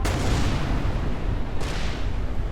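Bombs from a bomb thrower enemy explode in the space game Everspace 2: two loud, booming blasts in quick succession, each a heavy rumbling burst that fills the sound.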